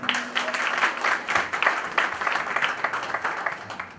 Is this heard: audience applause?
yes